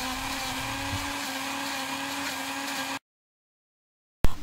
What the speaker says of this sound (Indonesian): mengukur tingkat kebisingan pada blender buah